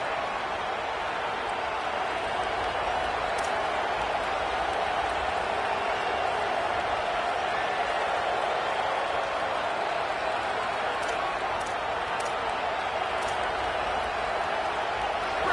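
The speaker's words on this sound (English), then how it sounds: "with this place rocking, the crowd forces a false start" A dense stadium crowd in a college football video game roars steadily for the whole stretch, a broad continuous wash of noise with faint commentary voices underneath.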